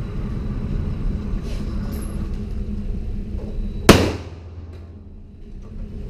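A single loud gunshot cracks out at a shooting range during target practice from about 15 feet, standing out sharply against a steady low background rumble and leaving a fading tail behind it.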